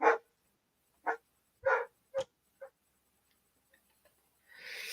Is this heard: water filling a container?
no